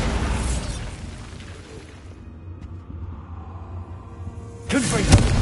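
A Bombarda explosion spell cast in a video game bursts near the end as a sudden loud blast, following a quieter stretch of ambient rumble with a voice underneath.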